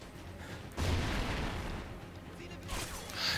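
Gunfire from the Call of Duty: Ghosts video game sounds as a sudden heavy burst followed by rumbling shots and echoes, moderately loud throughout a short firefight.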